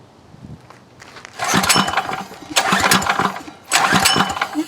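Pull cord yanked on an old Yerf Dog 3203 go-kart engine, with three loud, close bursts of the motor sputtering and briefly catching before dying away each time. No one talks.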